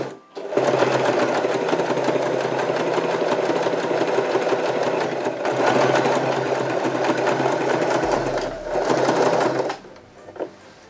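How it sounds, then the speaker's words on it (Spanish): A Janome 311 sewing machine runs a hem stitch, its rapid mechanical whirring and needle clatter steady and close, easing briefly midway and stopping near the end with a short click. "Realizaremos una costura en un dobladillo para hacer un pespunte."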